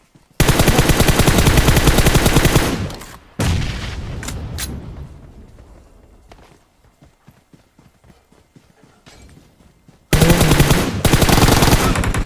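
Gunfire in the mobile battle royale game BGMI, loud, dense automatic bursts that start and stop abruptly, with scattered single shots and softer distant fire in the quieter middle stretch, then another heavy burst at the end.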